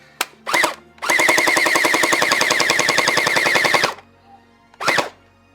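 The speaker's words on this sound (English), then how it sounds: "I put a couple of gel fire rounds in here just so we can test it real quick" An X-Shot toy blaster fires gel rounds: a couple of sharp single bursts, then a long rapid full-auto rattle of about three seconds, and one more burst, loud and close with no talk.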